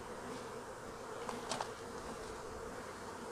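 Honey bees buzz around an open hive while being knocked into a box, a faint, dense, continuous hum of many insects with a couple of brief louder passes near the middle.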